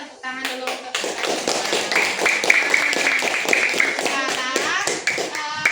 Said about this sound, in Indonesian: Nah, kita tepuk tangan dulu untuk